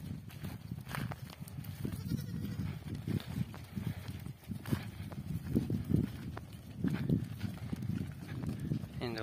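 Goats bleating outdoors in a herd that includes a newborn kid, with repeated overlapping calls near and far. People talk in the background.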